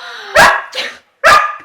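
A Scottish shepherd dog, a young female herding dog, barks three times at close range, loud sharp barks with a short gap before the last one, no talking.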